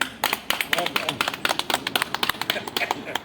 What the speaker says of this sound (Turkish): Bir alkış alalım bakalım, bir alkış alalım